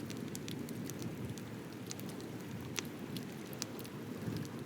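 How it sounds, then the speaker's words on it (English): Sharp, irregular crackles and pops of a wood campfire at Lake Powell over a steady low rush of flames and wind, fairly quiet and continuous. "the wind, the flames, the crackling wood."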